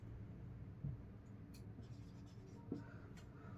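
A pen writes answers on paper, making a faint, continuous scratching with small irregular strokes and a couple of slightly firmer taps.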